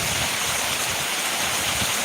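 Steady outdoor rain hisses evenly and close by, a dense unbroken wash of falling water with no voices.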